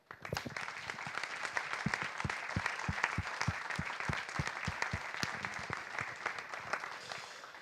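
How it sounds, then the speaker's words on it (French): A crowd applauds steadily at a student awards ceremony, dense clapping filling the room at an even level throughout with no voices over it. "je voudrais qu'on les remercie et qu'on les applaudisse chaleureusement"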